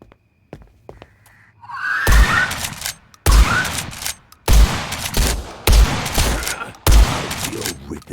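Rifle and pistol gunfire in the video game Blood West: five loud, close shots come at roughly even intervals, each followed by a short rumbling decay, after a few quieter clicks and a brief rising sound at the start.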